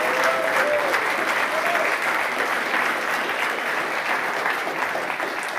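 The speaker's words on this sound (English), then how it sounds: "really, that's worth another clap," Sustained applause from an audience at a talk, a dense, even wash of many hands clapping at moderate loudness that holds steady throughout.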